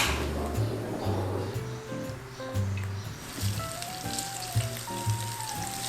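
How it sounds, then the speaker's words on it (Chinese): Tofu skin and fried tofu sizzle in vegetable oil in a flat pan, a steady crackling hiss under background music. "我们先把豆包跟油豆腐把它煸到金黄色"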